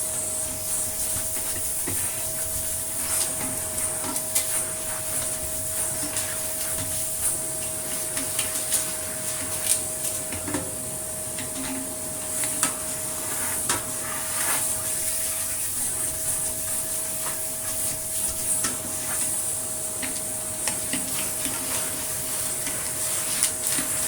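An Einhell TC-VC1812 vacuum cleaner runs continuously with a steady motor whine and airy rush, loud and unbroken for the full length, with faint rattles over the drone.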